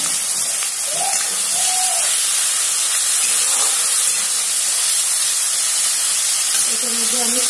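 Steam hisses steadily from a pot of mushrooms boiling on the stove, a close, even wash of noise with a voice breaking in now and then.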